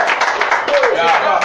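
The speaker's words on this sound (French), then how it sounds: "on va applaudir Eskili qui est avec nous." Applause in a radio studio, a short burst of clapping heard close under overlapping voices talking.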